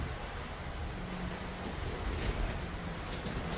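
Ocean waves at night aboard a catamaran crossing the Atlantic on a stormy night, a continuous rushing wash of water and wind noise with a low rumble, fairly faint and without voices.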